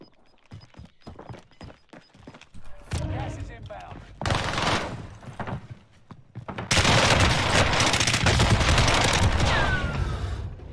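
Grau rifle gunfire in a first-person shooter video game, with repeated automatic bursts that grow louder and longer as the exchange goes on, while a player's voice talks over the shots.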